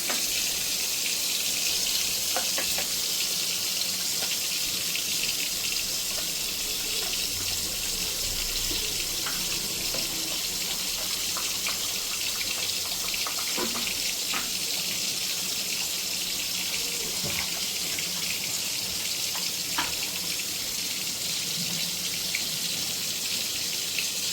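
A kitchen tap runs steadily for the whole stretch, water gushing into a bowl to mix a paste of mustard, green chilli and tomato for a fish curry, a constant close hiss with no talk.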